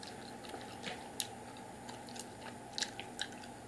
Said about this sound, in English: But if you like gum chewing, then this video is for you.